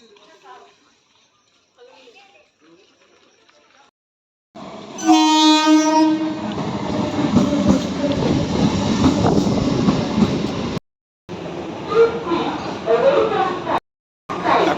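A train at a railway station blasts its horn in a short, loud burst after a quiet stretch, then rumbles past with steady heavy rolling noise that cuts out abruptly and returns briefly, with voices talking faintly near the start.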